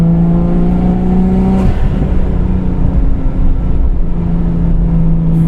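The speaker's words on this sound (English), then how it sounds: "ER34 Liberty Walk at the roadside." Liberty Walk ER34 Nissan Skyline engine drones loudly while driving on the street, a steady harmonic hum that shifts pitch once as the revs change, with no talking.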